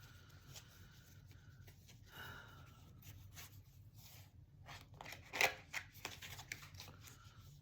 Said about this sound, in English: We're going to pull a card from the archetypes.